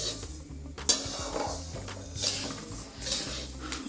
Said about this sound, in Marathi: तर इथं भाजणी चालू आहे मसाल्याची थोडं थोडं तेल टाकून मस्त हे भाजून घ्यायला लागले